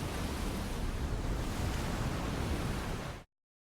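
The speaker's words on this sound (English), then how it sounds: "You hear wind, you hear waves, but I also heard thunder in the background." Steady rushing wind and crashing waves from the Pokémon Winds & Waves trailer, a continuous loud broadband roar that cuts off abruptly near the end, with no voices.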